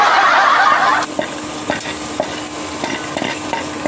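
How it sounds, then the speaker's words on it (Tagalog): Garlic sautéing in a pan, opening with a loud crackling sizzle that drops away after a second into quieter stirring, with a series of spatula scrapes and knocks against the pan. "Mag-saute na tayo. Unahin muna natin yung bawang."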